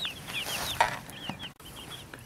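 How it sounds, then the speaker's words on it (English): Young homestead chicks that are starting to feather out sit outdoors in the sun on a cool 40-degree day, giving a few close, high peeping chirps over a soft outdoor background with no talking. "got the little birdies out in the sun today"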